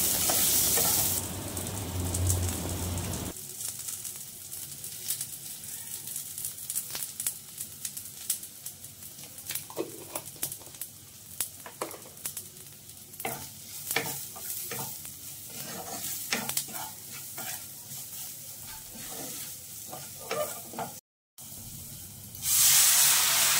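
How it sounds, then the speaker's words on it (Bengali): Masoor dal with onions and a tempering fries in a pan with a constant sizzle and hiss, broken by repeated scraping stirs, close and loud throughout. "ওই ফোড়নটা দিয়ে ডাল সেদ্ধ করে রেখেছিলাম, দিয়ে পেঁয়াজ দিয়ে করছি মুসুর ডাল।"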